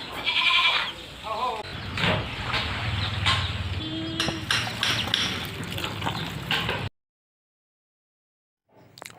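Goats at a goat farm bleat a few times close by amid handling noises, with soft speech, before the sound cuts to near silence and returns faintly at the very end.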